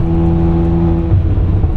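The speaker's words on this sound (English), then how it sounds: "There's some stutter coming off the car and the exhaust" A tuned Volkswagen Golf 8 R engine of over 500 hp drones loudly and steadily under load, its low exhaust tone faintly wavering and uneven from a stutter, with no voices.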